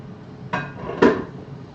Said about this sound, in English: let me just get rid of this chopping board